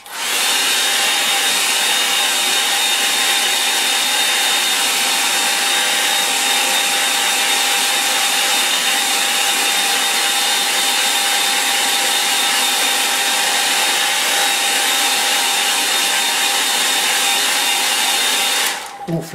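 A hair dryer blows steadily to dry a watercolour painting of a Lake District scene, a loud, constant whirring hiss with a faint high whine that runs unbroken for nearly twenty seconds before cutting off, with no talk.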